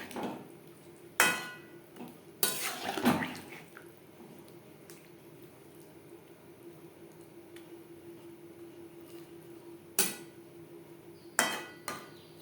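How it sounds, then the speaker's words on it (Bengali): A spatula scrapes and clanks against a pan as pointed gourd (potol) is mixed into an oily, spiced vegetarian gravy: a few sharp metallic knocks in quick bursts, then sparse taps over a quiet simmering background. "গ্রেভির সাথে পটল বেশ ভালো করে মিক্সড করে দেবো"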